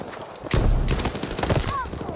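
Gunfire in Battlefield 6, a loud close burst of automatic shots rattling out under someone speaking, continuing in quick repeated cracks through the short stretch.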